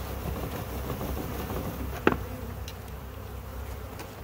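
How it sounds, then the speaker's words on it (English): Faint, steady buzzing of bees in a 3D-printed indoor hive with a brief sharp tap in the middle, low-level hum continuing throughout. "Now we got bees."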